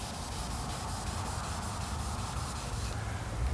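Car paint is wet-sanded by hand, raising a white slurry, and the sanding block rubs back and forth in a steady, close, hissing scrub with no talking.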